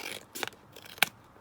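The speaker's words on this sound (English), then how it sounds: "let's just quickly cut this along here" Scissors snip paper in two short, crisp cuts about half a second apart, close and fairly quiet, while making vintage fashion plate junk journal embellishments.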